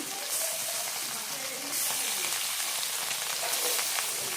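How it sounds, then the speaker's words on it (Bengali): Gulsha fish frying in hot oil, a steady close crackling sizzle that runs the whole time with small pops, and no one speaking over it. "এদিকে মাছগুলো ভাজা হলো"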